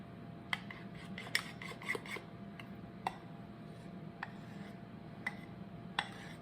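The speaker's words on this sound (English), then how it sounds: "I'm going to mix the cinnamon." Cinnamon is mixed into frosting for a pumpkin cheesecake, with soft rasping strokes and occasional light clicks of a utensil against the bowl, quiet and irregularly spaced over a low background hum.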